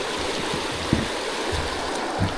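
Babette Creek rushes steadily beside a backcountry trail bridge in Kakwa Provincial Park, a loud, close, continuous wash of flowing water with a few faint thumps underneath and no voices.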